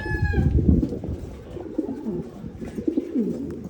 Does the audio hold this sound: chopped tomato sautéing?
no